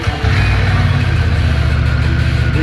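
A Harley-Davidson Pan American motorcycle engine runs loud and close at a steady, rough idle with a low rumble and no clear revving.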